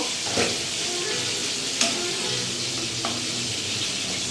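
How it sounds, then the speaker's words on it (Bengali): Aloo posto, potatoes with poppy seed, cooks in a pan over steady low frying sizzle, with a few soft stirring scrapes and light clinks standing out near the start and middle; no one talks. "একদিকে আমার আলু পোস্ত হচ্ছে, ওটা একটু দেখে নেব।"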